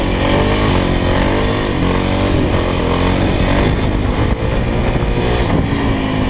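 Kawasaki KLX 351 motorcycle engine revs hard and steadily during wheelie practice, a loud, continuous, close-up drone with small surges in pitch and no voices.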